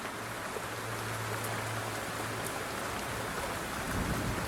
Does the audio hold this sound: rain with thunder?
yes